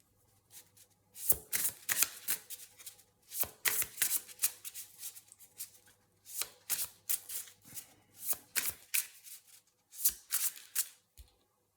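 Tarot cards shuffled by hand in repeated bursts of crisp riffling and flicking, close and fairly quiet, with short pauses between each pass.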